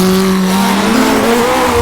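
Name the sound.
60s F1 race car engine accelerating, video game rFactor 2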